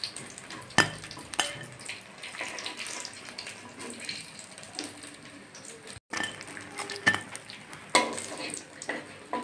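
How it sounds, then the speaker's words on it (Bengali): Fried masala eggplant slices are lifted one by one out of hot frying oil, giving a steady sizzle broken by a few sharp clinks of a metal utensil against the pan, close and fairly quiet, with no voices. "আমি এখন একটা একটা করে তেল ঝরিয়ে তুলে নিচ্ছি।"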